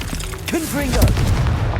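Confringo, the explosive spell in Hogwarts Legacy, hits with a heavy booming blast that swells and rolls on, while a voice speaks briefly over the start of the rumble.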